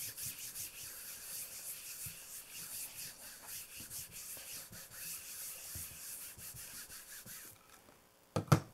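Rhythmic rubbing strokes over a gel plate print, a steady series of soft scratchy passes close up that stop abruptly, followed by a brief knock at the end.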